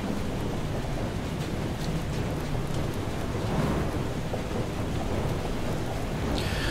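Thunderstorm in the seafaring game Far: Changing Tides, with steady heavy rain pouring down and a rumble of thunder beneath it, continuous and fairly loud with no voices.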